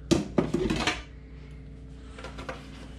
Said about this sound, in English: I propose we need to level that out with that very bare spoon.